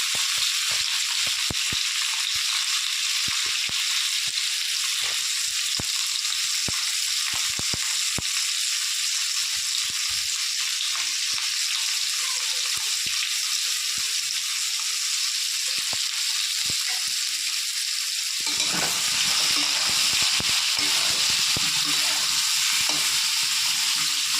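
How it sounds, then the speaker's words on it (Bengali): Potato pieces fry lightly in hot oil for a Kashmiri aloo dum, a continuous close sizzle with scattered crackles and pops, swelling louder near the end as the pieces are stirred. "আলু আমি হালকা করে ভেজে নিয়েছি"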